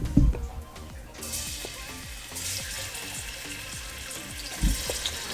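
Garlic hits a hot pan and sizzles loudly, with repeated scraping strokes of stirring in a steady rhythm and a bright frying hiss that swells after the first second, close and alone.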